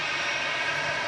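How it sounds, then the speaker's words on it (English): EasyJet airliner from Amsterdam vacating the runway at Manchester Airport, a loud steady jet engine roar, broadband and continuous, close by for the whole moment. "An EasyJet just vacating in front of us from Amsterdam."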